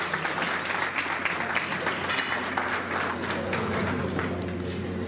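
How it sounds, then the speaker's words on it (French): An audience applauds in a sustained, even wash of clapping at moderate distance, with a faint voice under it. "On peut les applaudir s'il vous plaît."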